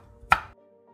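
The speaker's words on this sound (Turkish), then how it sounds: "Kıyabildiğiniz kadar ince kıyın" A single crisp knife stroke chops through fresh dill on a cutting board, one short, close thud with no talking around it.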